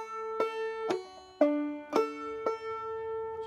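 Clawhammer banjo plays a drop thumb roll, a repeating right-hand pattern moving between the first, second and fifth strings, with sharp plucked attacks about twice a second over ringing notes, heard alone and up close.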